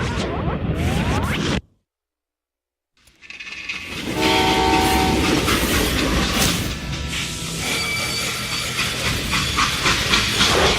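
Freight train in the game Call of Juarez Gunslinger: loud steam hiss and rolling rail clatter with ringing whistle-like tones, broken by a brief silent gap near the start, then steady and close.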